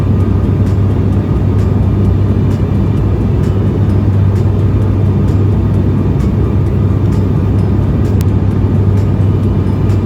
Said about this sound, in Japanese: 飛行機は少しずつ高度を落としているのがわかると思います。